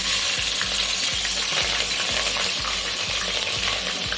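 Green chillies sizzle in hot oil for vegetable fried rice, a loud, steady frying hiss broken by regular scraping knocks of a spatula stirring the pan.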